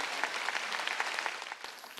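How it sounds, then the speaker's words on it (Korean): Steady applause from a church congregation during a sermon, a dense patter of many hands clapping at once, continuing for a couple of seconds with no voices. "박수."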